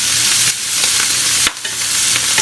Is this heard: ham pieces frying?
yes